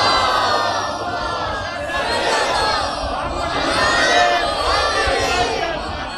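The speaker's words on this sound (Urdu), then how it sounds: "اس سے بلند اور بہتر صلوات۔" A large crowd at a religious gathering recites salawat aloud in unison, a loud, sustained swell of many voices chanting together in waves.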